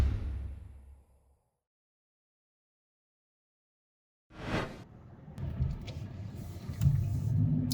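Car driving along the Las Vegas Strip in traffic, a low road rumble that fades into complete silence and then returns with a whoosh, followed by steady engine and tire noise.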